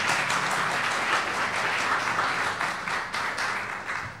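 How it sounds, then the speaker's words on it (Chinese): A congregation at a thanksgiving worship service applauds in sustained, dense clapping that stays full and even, then thins slightly toward the end. "来再一次掌声"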